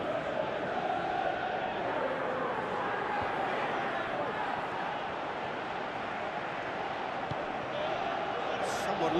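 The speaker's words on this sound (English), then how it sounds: "you can feel and hear how the crowd are reacting to all of this" Steady crowd noise from a PES 2018 football video game, a dense continuous roar of stadium spectators at moderate level, without clear peaks, across the whole stretch.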